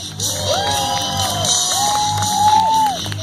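A crowd at a Gwinnett County Fair BMX stunt show cheers, whoops and whistles after a rider's trick, a loud continuous roar of voices.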